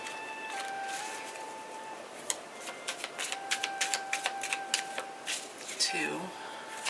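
Tarot cards shuffled by hand, a run of quick crisp riffling flicks and taps, close and fairly soft, over a faint tonal background hum.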